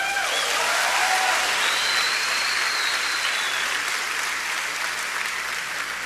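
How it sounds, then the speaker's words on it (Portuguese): Church congregation breaking into applause for God during a sermon, a dense, sustained roar of many hands clapping that stays loud and even, with faint cheers rising briefly above it. "Quem crê, dá uma salva de palmas a Ele"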